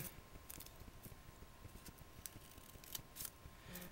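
Scissors snip through a folded paper cupcake liner in a quick run of crisp, close cuts, with light paper rustling between them and no talking.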